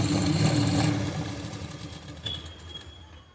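A sewing machine runs while stitching the pieces of palazzo pants together, a steady mechanical whir that is loud at first and gradually eases off, with a brief higher whine near the end and no talking.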